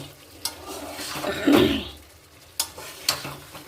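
Fried potatoes and egg stirred in a pan, with a few scraping strokes and clacks of a spoon against the metal over a faint sizzle, in short irregular bursts.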